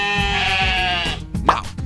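A single sheep bleats in a long, wavering, nasal call, followed by a short hollow plop and a few soft knocks.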